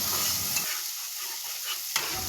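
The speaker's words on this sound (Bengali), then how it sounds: "এবার ওর মধ্যে এক চামচ আদা মাটা ও পরিমাণ মতো নুন দিয়ে দিলাম ও ভালো করে মশলাটা নাড়িয়ে নিলাম" A spice paste with a spoonful of ground ginger and salt gets stirred in a pan, giving a brief, soft sizzle and scraping. The sound drops to near quiet partway through and then comes back.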